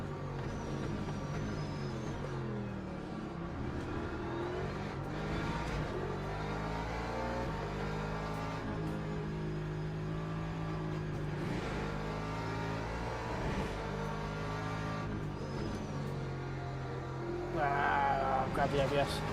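A Porsche in a racing video game, Laguna track: the engine drones and revs steadily, its pitch rising and falling through gear changes and holding near for the whole stretch, with a louder surge at the very end.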